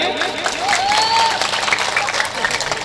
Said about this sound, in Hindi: आप अपने लिए एक बार तालियां बजाइए।